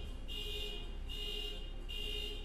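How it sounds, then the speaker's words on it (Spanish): A distant car alarm pulses in a steady on-off electronic tone, repeating about three times over low background noise. "No sé si se escucha la alarma de auto."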